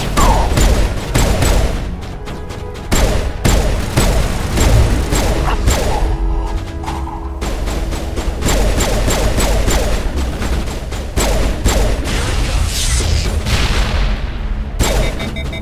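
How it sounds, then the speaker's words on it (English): Rapid pistol fire in a Mass Effect 1 Legendary Edition battle, with loud sharp shots in quick bursts and short pauses, mixed with booming impacts and other combat noise. "can I fire my pistol now?"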